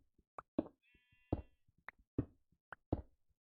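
Sheep in Minecraft with the GregTech 6 modpack, bleating once in a clear wavering call between soft blocky footstep taps and knocks, close and alone.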